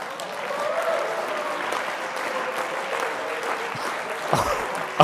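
Audience applause in a hall at a regional party conference, a steady dense wash of clapping that holds evenly throughout, with a slight swell near the end.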